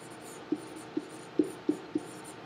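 A pen taps and strokes on an interactive whiteboard, five short, soft, evenly spaced marks in a quiet room.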